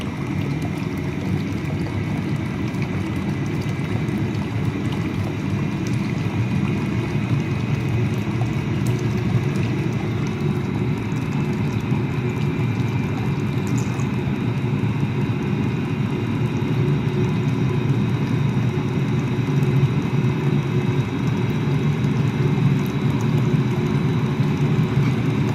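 An Eberspacher diesel heater installed in an LMTV military truck runs with a constant jet-like roar, a loud steady broadband rush that never changes in level.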